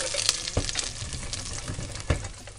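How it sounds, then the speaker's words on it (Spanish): Two garlic cloves frying in olive oil in a pot, a steady crackling sizzle with a few sharper stirring knocks, close and alone. "Voy a echar un poquito de aceite de oliva en la misma olla y dos dientecitos de ajo"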